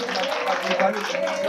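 Women at a Gouro community support rally in Yopougon clap steadily in a dense, continuous patter while a voice talks over the applause.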